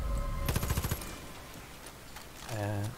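Rapid bursts of automatic gunfire in the video game Far Cry 5 Arcade crackle briefly near the start, followed by quieter in-game noise and a short tonal game sound near the end.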